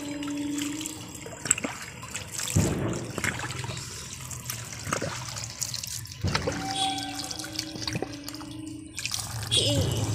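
Water sloshes and splashes in a village pond as someone dunks fully under, with two sharper splash bursts among steady trickling and dripping and quiet voices in the background.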